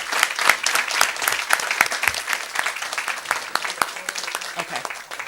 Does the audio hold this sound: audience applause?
yes